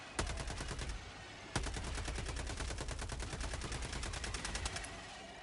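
Rapid automatic gunfire from the co-op shooter Helldivers 2, dense sustained bursts that fill the whole clip loud and close, with one sharper heavy shot cutting in near the start and no talking.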